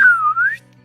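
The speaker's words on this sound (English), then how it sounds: "Bad whistle." A single short whistle from a person, one clear tone that dips lower and then rises again, close up and loud, fading out into quiet background.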